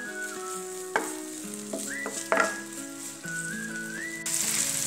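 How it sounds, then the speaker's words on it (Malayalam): Two tablespoons of ginger garlic paste sauté in hot oil, giving a soft, steady sizzle under prominent melodic whistle-like tones. "ഇഞ്ചി വെളുത്തുള്ളി പേസ്റ്റ് ഇടുക. നല്ലപോലെ ഒന്ന് വഴറ്റി വരട്ടെ"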